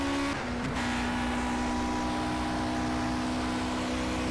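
A 1960s Formula One race car engine in Project CARS at Rouen-Les Essarts holds a steady, loud, buzzing drone with a sustained high tone, the pitch dipping briefly near the start and then holding steady throughout.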